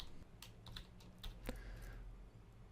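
Typing on a computer keyboard, a quick run of soft key clicks at close range in a quiet room with faint background hum, no talking.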